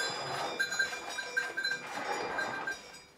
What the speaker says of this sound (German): Bevor die Kühe wieder auf die Weide getrieben werden, wird noch einmal gemolken.